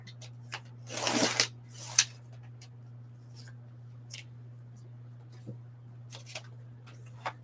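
Paper pieces are cut to size for handmade journal construction. There is a short cluster of crisp cutting and rustling, another snip a moment later, then sparse faint paper sounds over a low, steady hum.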